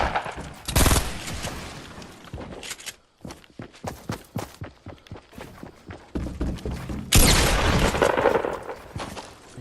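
Gunfire from a Fortnite Battle Royale match, with loud bursts of shots at the start and end, and a rapid run of sharp, closely spaced cracks or footsteps in between, including pump shotgun blasts.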